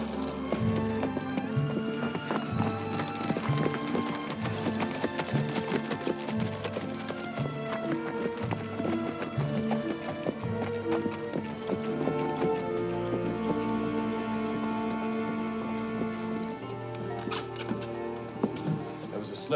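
Horses gallop with steady clip-clop hoofbeats through a western film scene, with occasional neighs and dramatic music layered over the continuous loud hoof rhythm.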